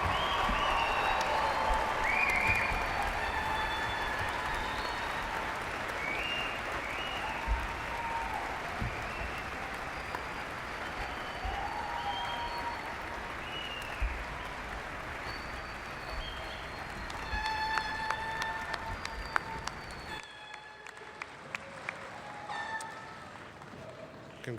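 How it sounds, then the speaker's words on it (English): Sustained audience applause for undergraduate graduates at a spring university commencement ceremony, dense and steady for about twenty seconds before thinning out, with a few scattered whoops and cheers rising above the clapping. "a round of applause."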